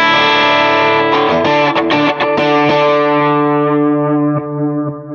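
Electric guitar through a POD Go running a Revv G20 amp preset with the compressor pushed to 8 dB, ringing a loud, distorted, sustained chord with a few re-picked accents, fading slowly with no talking.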